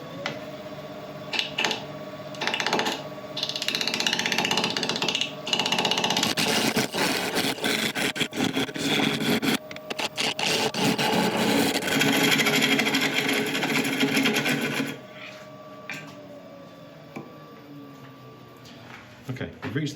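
A woodturning lathe hollows out the inside of a resin bowl, the tool rasping and scraping in uneven bursts over the spinning blank. The cutting comes through in rough, scratchy stretches with brief quieter gaps.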